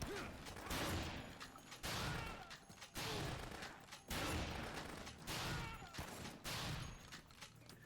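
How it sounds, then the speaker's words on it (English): Shotgun fire in Dead Rising, a steady series of loud booming blasts about one second apart, each followed by a short rumbling decay. "we're gonna snipe him because the shotgun has a lot of range"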